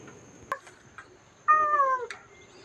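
At the grounds of Wat Pong Chai, a Buddhist temple, a cat lets out one drawn-out meow, clear and close, with a few faint clicks before it and a steady high background hiss.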